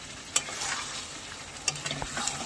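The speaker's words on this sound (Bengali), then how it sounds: "মাংস খাওয়ার মুখে, আধ ঘন্টা কষালাম ভালো করে" Chicken meat sautéed and stirred in a pan, a steady close sizzle broken by several sharp scrapes and knocks of the spoon against the pan, with no talking.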